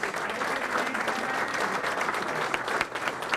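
Steady applause from diners at a community day dinner held at a country club, a dense, even roomful of clapping that holds for the whole stretch with a few sharper claps near the end.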